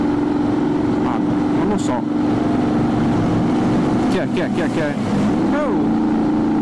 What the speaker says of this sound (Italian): Sta moto, sentila, tutti ingranaggi,